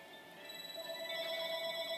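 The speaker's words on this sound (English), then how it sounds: "I got an annoying phone call." A phone ringtone in the Pokémon SoulSilver game plays as a sustained electronic tone, moderately loud and steady over about two seconds.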